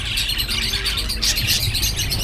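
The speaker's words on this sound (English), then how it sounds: "There's also a bird shop." Many caged birds in a bird shop in Egypt chirp and tweet continuously, a dense bright chorus of overlapping calls at close range with a low street rumble beneath.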